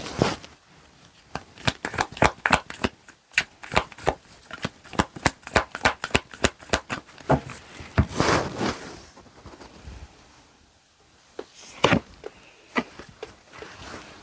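Tarot advice cards are shuffled by hand in a quick run of crisp riffling flicks and slaps, close and fairly loud, pausing briefly before a few more snaps near the end.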